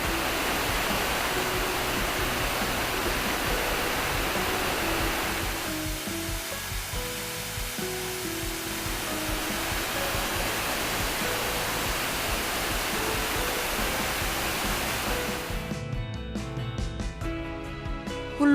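Steady broadband rush of a waterfall along a long mountain trail near an old fortress wall. The roar is continuous and fairly strong, briefly dips midway, and gives way to other sound at the very end.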